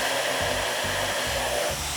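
A hair dryer blows hot air onto a curl of hair, a steady loud whir running throughout with a slight rhythmic low pulsing.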